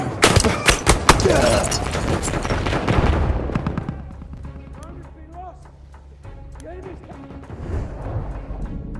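A grenade blast and heavy gunfire in the Battlefield 1 multiplayer battle crash out loud and dense for the first few seconds, then fade to scattered distant shots and rumble, with voices talking throughout.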